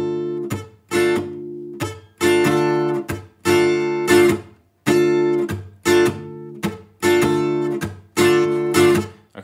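Slow acoustic guitar strumming of a song's rhythm, with full downstrokes broken by short muted gaps in a steady, close, unaccompanied pattern.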